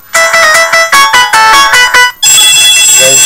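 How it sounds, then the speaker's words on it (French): Very loud electronic ringtone from a big-button Classic Sympa 2 mobile phone, a rapid bright melodic pattern of repeated bursts, then a sustained different tone pattern near the end, close and dominant. "Il y a une sonnerie très très forte"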